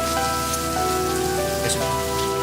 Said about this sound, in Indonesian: Lagian juga masih hujan, Pak.